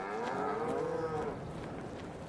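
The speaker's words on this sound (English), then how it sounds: "Bunch of happy cows." Cattle in Farming Simulator 22 low with one long, loud, close moo that bends in pitch and fades, with no talk.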